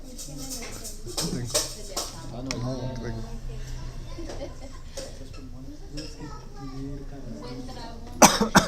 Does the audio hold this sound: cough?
yes